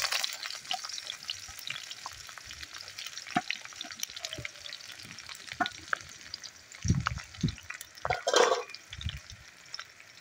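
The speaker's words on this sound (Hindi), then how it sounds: "फिर इसको अच्छे तरीके से ब्राउन होने तक फ्राई कर लेना है" Chopped garlic and onion sizzle and crackle in a hot pan, with a spoon scraping and stirring now and then, growing busier toward the end.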